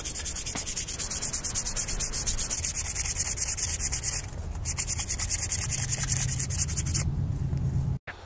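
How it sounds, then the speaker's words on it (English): Fresh sandpaper works over a hand-carved wooden spoon in a steady, close back-and-forth rasp of quick strokes, continuous for about eight seconds before a brief pause and sharp stop. "I'm gonna grab a fresh piece and give it one final sand."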